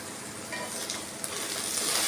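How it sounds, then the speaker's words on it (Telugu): Okra frying in oil, a soft, steady sizzle that stays fairly quiet and constant, with a few faint crackles. "పోయే వరకు ఇలా నూనెలో ఫ్రై చేసుకోవాలి"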